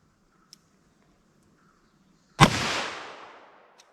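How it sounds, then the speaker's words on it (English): One loud shot from a .32 H&R Magnum firing Federal Hydra-Shok ammunition at a penetration test target cracks out of near silence, followed by a short, fading outdoor echo. "let's hit that with our 32 H&R Magnum."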